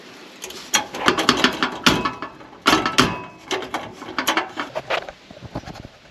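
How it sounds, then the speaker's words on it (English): A speed ratchet spins and clicks as exhaust bolts are loosened on a Vette truck, with rapid bursts of ratcheting near and loud, in irregular spurts. "Okay, got out the speed ratchet"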